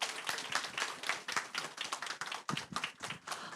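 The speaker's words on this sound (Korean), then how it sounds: "크게 한 번 더 박수 부탁드릴게요" An audience claps at the close of a Korean motivational talk, a lively burst of many hands near and loud with an uneven, rippling rhythm and a brief dip midway before it resumes.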